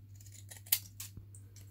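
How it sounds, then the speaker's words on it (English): Deckle edge scissors snip through paper tags in a few quiet, separate cuts, with a steady low hum running underneath. "I used the deckled edge scissors just to cut them out, and that's exactly what I'm doing."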